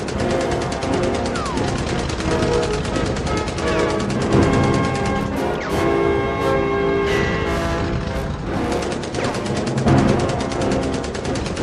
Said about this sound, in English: Durak, Ronak, Kargrim, hit him with the rotary guns!